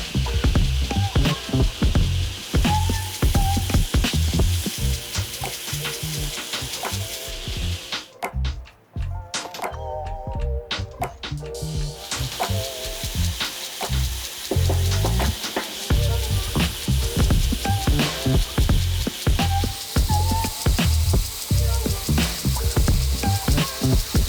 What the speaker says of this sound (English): we're at the grinder and we're gonna grind these beautiful black lines right down to them